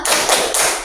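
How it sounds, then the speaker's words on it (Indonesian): A classroom group thumb-clap rings out as a short burst of claps, about two quick rounds under a second, close and loud, with no voices over it. "Kasih tepuk jempolnya untuk kelompok 3"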